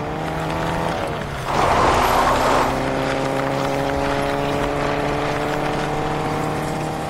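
A car drives across slippery terrain in the Fortnite video game. The engine hums with steady, layered tones and rises briefly into a louder rushing surge midway through, with no talk over it.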